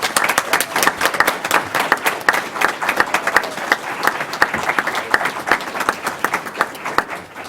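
Audience at a school board of education meeting breaking into sustained applause, a dense crowd of many hands clapping steadily and close, with a few voices beneath.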